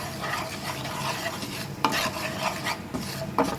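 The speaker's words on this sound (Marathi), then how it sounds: "पेपर उडीचो पिठो आनी मीठ हें सगळें बरें मिक्स करून घेवपाचें" Pepper, urad flour and salt being stirred together in a pot, giving a close, continuous scraping and rustling with a couple of sharper knocks of the spoon against the metal.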